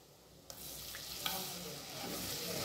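A soft sizzle and hiss swells in a pan as water is poured onto cooking masala, with a couple of light utensil clinks while stirring.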